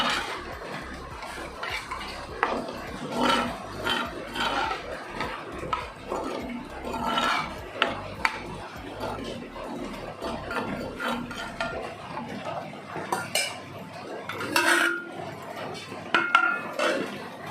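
A cooking pot is lidded and stirred while prawn masala cooks, producing intermittent metallic clinks, scrapes and clatter from close by.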